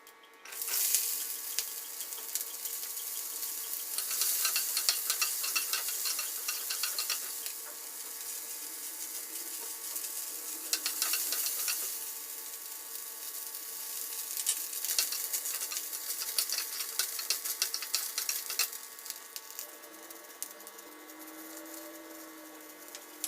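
Masala ingredients for garlic kuzhambu fry in hot oil in a pan, producing a steady close sizzle with occasional stirring scrapes, continuing alone for over twenty seconds.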